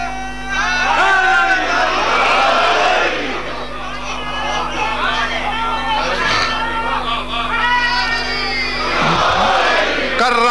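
A large crowd at a religious sermon gathering chants slogans in loud, rhythmic unison, the massed voices rising and falling in repeated waves over about ten seconds.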